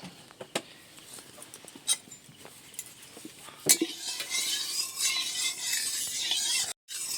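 Cooking oil swirled around an iron wok before frying fish, with scattered metal taps and clinks, then a soft rising hiss and sizzle, close and fairly quiet.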